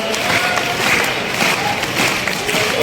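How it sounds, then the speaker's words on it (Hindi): Audience applause at a kavi sammelan poetry gathering, a dense, steady clapping crowd throughout, loud and close with a few cheers mixed in. "ये तालियां"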